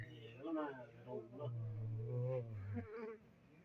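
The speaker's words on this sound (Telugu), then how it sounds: "ఈగలు మా రూమ్లో ఈగలు ఎలా ఉన్నాయో చూతారా" A swarm of flies hums inside a room, a low steady buzz droning underneath a person talking nearby, dropping away near the end.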